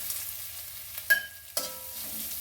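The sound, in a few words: grated coconut roasting and sizzling in a pan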